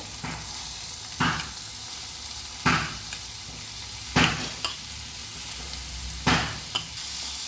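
Onions fry in a few spoonfuls of oil in a pan with a loud, continuous sizzle, and a spoon scrapes through them every second or so.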